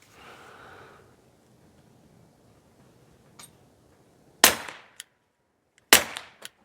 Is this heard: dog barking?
no